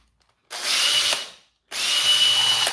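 Power drill backing out two screws from a power tool battery pack: two loud whirring bursts of about a second each, separated by a short pause.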